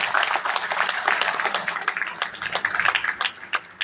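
A crowd at an Atomy event in Indonesia claps for the company, with dense, uneven handclapping that keeps going throughout, individual sharp claps standing out within the steady patter at moderate volume.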